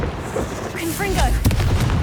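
Confringo fire spell cast in Hogwarts Legacy on PlayStation 5, a short booming blast with crackling burst over a rumbling low end, loud and close amid game sounds and a voiced incantation.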